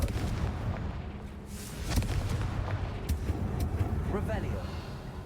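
A Confringo fire spell from Hogwarts Legacy bursts with a loud, near boom amid a constant rumbling game backdrop, with a crackling flare trailing after it.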